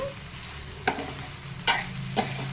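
Brinjal and tomato curry being stirred in a frying pan, three short scraping strokes over a steady soft sizzle.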